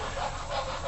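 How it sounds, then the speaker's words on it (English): A dog panting rapidly, close by, with steady breathy rhythm and no talking. "That's a dog."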